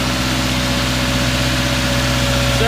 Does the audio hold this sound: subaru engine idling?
yes